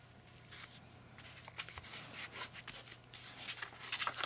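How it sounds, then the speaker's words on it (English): A cardstock greeting card is burnished by hand, giving soft close rubbing and scuffing strokes that grow denser and a bit louder, with a faint low hum beneath and no speech. "A little burnishing"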